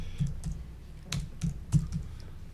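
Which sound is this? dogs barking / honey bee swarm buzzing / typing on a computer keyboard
typing on a computer keyboard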